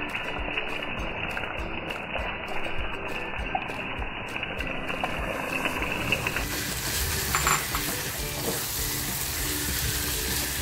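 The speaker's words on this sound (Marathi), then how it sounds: "हे सारण आहे ना, आपल्याला छान फ्राय करून घ्यायचं आहे" Minced squid head and prawn stuffing fries in a pan with a steady broadband crackle, and scraping or stirring noises join in partway through. No one speaks.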